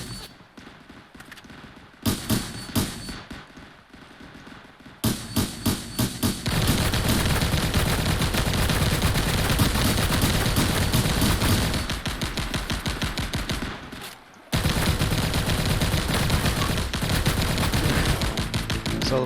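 Video game gunfire with sniper shots in a bot match: dense rapid bursts of automatic fire, nearly continuous and loud, broken by a brief lull around the middle and a short sharp gap near the end.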